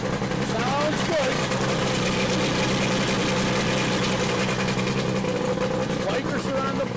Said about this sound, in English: Let's put it in gear right now and watch that propeller spin.